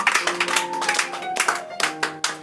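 A church congregation claps rhythmically during a worship service, with sharp repeated hand claps over sustained tones of singing or music.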